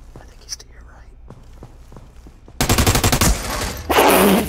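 Rapid automatic gunfire bursts out loud and close in a multiplayer video game after a quiet stretch of soft, whispery movement, followed by a heavier blast near the end.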